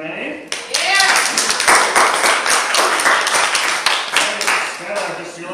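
Sustained loud clapping from a comedy show audience fills the clip, with whoops and voices mixed in throughout.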